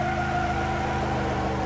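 Zaporozhets car engine in the racing game Wreckfest, a steady mid-pitched drone holding a constant tone throughout, with no talk.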